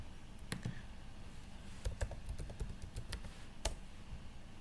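Someone types the ipconfig command on a computer keyboard, a quick run of crisp, close key clicks over faint background hiss.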